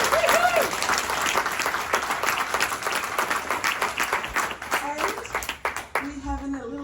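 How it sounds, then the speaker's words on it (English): An audience gives warm, sustained applause for the recipient of an inaugural environmental award, a dense clapping that thins out toward the end as a voice begins to speak. "she deserves a huge round of applause"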